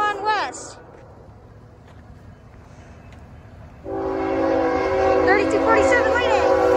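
A CSX Q009 intermodal freight train runs westbound on track 1 at Fairport. The horn sounds briefly, then quieter rail rumble follows before loud sustained horn blasts and heavy rolling noise, with a voice heard over it.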